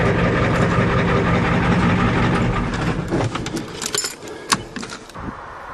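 Diesel engine running after a repair to its glow plug controller, a steady low rumble with light rattles, fading after a few seconds and leaving scattered clicks and clatter.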